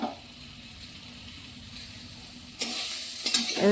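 Eggplant and tomato with salt and turmeric stirred in a frying pan: a soft, steady sizzle, then louder scraping stirs with a hiss toward the end, close up and without talk.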